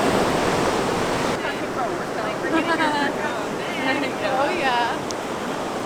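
Ocean surf at a beach rolls in as a steady broad wash of breaking waves and wind noise, under scattered talk nearby.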